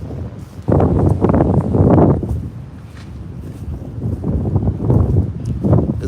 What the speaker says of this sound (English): I'm sorry about the wind, y'all, but it's like so windy